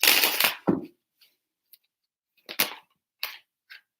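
Tarot cards are shuffled by hand in short riffling bursts and crisp slaps, loud and close, separated by quiet pauses with a few lighter taps.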